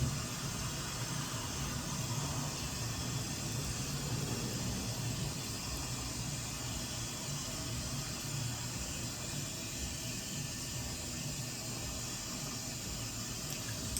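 A face is washed at a bathroom sink under running water, producing a steady, dense hiss of flowing and splashing water that continues without a break throughout, close and fairly loud.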